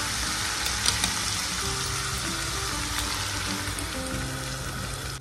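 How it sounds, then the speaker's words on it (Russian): Tomatoes frying in a skillet for an omelette with tomatoes, a steady close sizzle running the whole time with a few faint clicks of stirring and no voices. "Немного перемешиваем и оставляем обжариться примерно 1 минутку."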